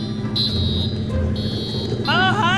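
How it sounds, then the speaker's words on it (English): A fire alarm triggered inside a Bayside High School video game rings out as a loud, steady electronic buzz, cutting in and out twice before high warbling sweeps take over, with game sounds underneath. "now I think I'll pull the fire alarm on her"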